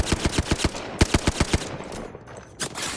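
Rapid automatic gunfire in the video game Apex Legends rattles out in quick bursts of sharp, evenly spaced shots, loud and close, pausing briefly before a few more shots.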